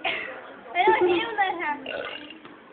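A child's drawn-out gurgling burp fills the clip at close range, rising and wavering like voiced croaks, with a quieter tail near the end.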